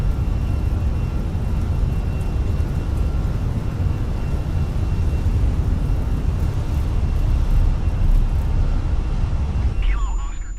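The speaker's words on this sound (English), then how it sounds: "Sloppy takeoff." An airplane taking off in a sloppy manner, a continuous low engine roar that holds steady and builds slightly before fading out near the end, with no voices heard.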